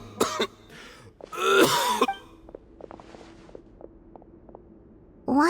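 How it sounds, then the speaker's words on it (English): A man clears his throat and coughs several times in a rough burst, followed by quieter shuffling and a short groan at the end, from a character in Genshin Impact. "Why is he coughing so much?"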